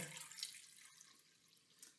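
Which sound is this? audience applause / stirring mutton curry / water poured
water poured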